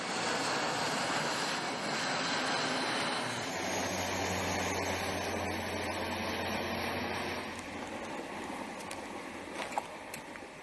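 Military transport planes in formation fly over during a paratrooper airdrop on an Arctic exercise, giving a steady, broad engine roar that holds for the whole stretch and eases slightly near the end.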